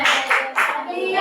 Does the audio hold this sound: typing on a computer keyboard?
no